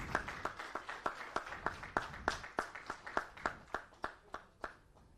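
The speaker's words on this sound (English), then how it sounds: "We can have a round of applause for Mr." At a national conference prize announcement, a small group claps in a slow, steady rhythm of distinct, evenly spaced claps that are fairly faint and nearby.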